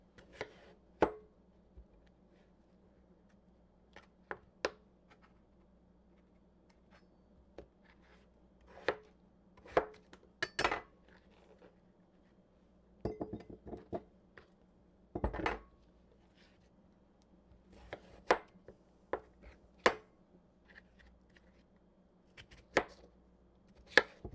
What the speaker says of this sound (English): Now that our potatoes are peeled, we're just going to quarter them